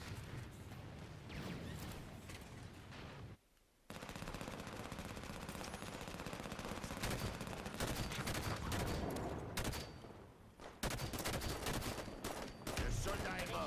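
Relentless video game gunfire rattles almost continuously in rapid automatic bursts, mixed with blasts and dense battle noise, with one brief lull partway through and quieter voices faintly beneath.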